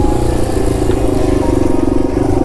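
A Yamaha TW200 motorcycle being ridden, its engine droning steadily and loudly at close range with a continuous rumble and no pauses or talk.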